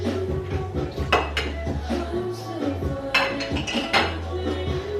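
Dishes and cutlery clinking and clattering close by as a dishwasher is emptied, with repeated ceramic knocks and metallic chinks over a low steady hum.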